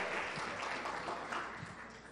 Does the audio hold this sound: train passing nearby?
no